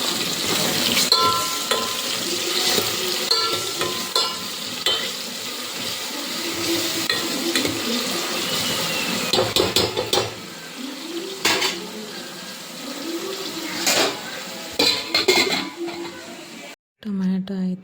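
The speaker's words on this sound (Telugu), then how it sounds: "ఇలా ఫ్రై అయిపోయినాక నేను ఇంకా టమాటా యాడ్ చేస్తాను." Tomatoes frying in a garlic tempering for pappu charu, with sizzling broken by clattering pan and spoon stirring over nearly eighteen seconds, and a voice talking at times over the kitchen noise.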